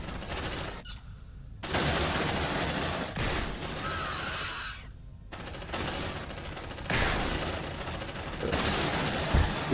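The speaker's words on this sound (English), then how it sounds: "Suppressive fire!" Sustained bursts of suppressive gunfire from a squad of marines in the Aliens: Dark Descent video game, loud and dense, with a couple of short gaps between the volleys.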